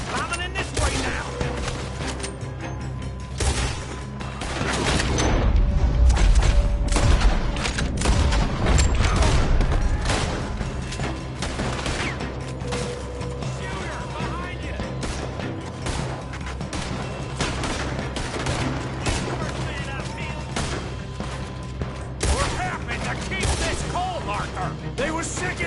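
A shootout in Red Dead Redemption 2, with dense, continuous gunfire and booming shots layered under music and ambience, loudest around the middle and steady to the end.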